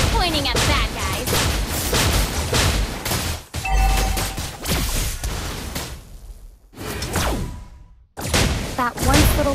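Rapid gunfire bursts from Layla, a marksman hero in the Mobile Legends game, mixed with whooshing skill effects and booms, loud and dense throughout with a brief dip in the middle, while a voice talks over parts of it.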